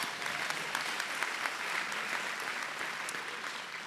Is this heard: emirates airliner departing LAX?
no